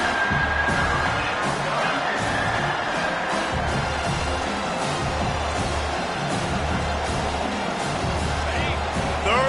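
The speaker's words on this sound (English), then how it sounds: "this crowd is tearing the lid off this place" A stadium crowd roars steadily in the Madden 22 football video game, a dense, continuous wash of cheering that stays loud throughout, with faint bursts of voices rising within it.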